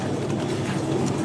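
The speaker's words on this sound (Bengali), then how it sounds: "সব তো ঘরের কবুতর।" Domestic pigeons coo at a busy bird market in Tongi, a continuous low rolling murmur of many birds mixed with crowd background noise.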